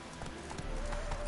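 Rhythmic clip-clop of Geralt's horse Roach in The Witcher 3, steady hoofbeats at a trot over a game background hum, brief and moderately close.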